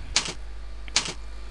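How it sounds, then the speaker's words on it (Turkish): Two crisp bursts of keystrokes on a computer keyboard while a wall length is entered, each a quick double tap close to the microphone, separated by a short pause over a low steady hum. "Duvarımızın uzunluğunu girelim klavyeden"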